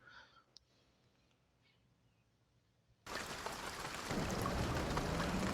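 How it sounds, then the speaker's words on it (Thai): Steady rain hiss in Truck Simulator Ultimate, driving a Freightliner Cascadia in light morning rain, starting abruptly partway through after near silence and continuing loud and dense to the end. "ได้ยินเสียงฝนกันไหม"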